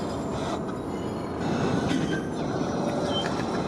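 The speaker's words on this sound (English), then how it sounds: "That looks like a decent view of the engines over here" A freight train rumbles past nearby, heavy low rolling noise with rhythmic wheel clatter and a faint metallic squeal, growing slightly louder midway.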